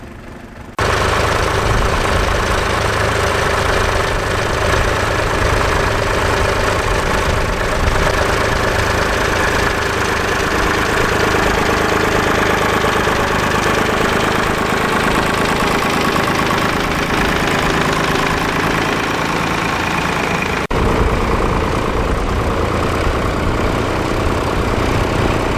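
A Nuffield tractor engine idles loud and close, a steady, rough low chugging that runs unbroken for the whole stretch with no voices.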